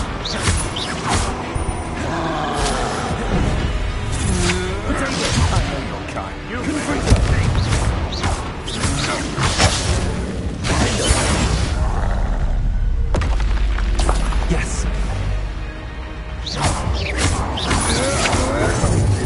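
Spell blasts and explosions in Hogwarts Legacy, repeated booming bursts and crackling impacts in a busy, continuous battle, with a voice calling out over the noise.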